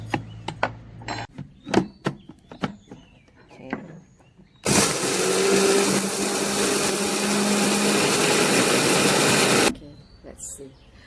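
A blender grinds the remaining fish curry powder spices in one loud, continuous whirring burst of about five seconds, with a person talking before and after it.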